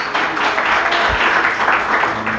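A church congregation claps harder during worship, loud sustained clapping from many hands with uneven surges, close and full, with a brief low thump partway through.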